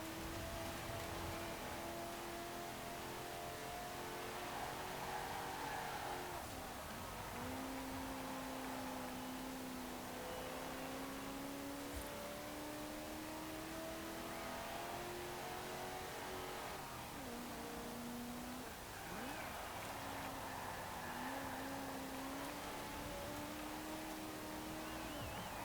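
A car engine in Forza Horizon 4 drones steadily under driving on a lap, its pitch rising and dipping through gear changes over continuous road and wind noise, with no talking.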